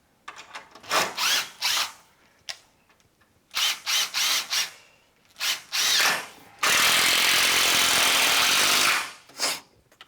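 Power drill boring new screw holes into wood in a workshop, several short whirring bursts followed by one long sustained drilling run and a final brief burst, loud and close.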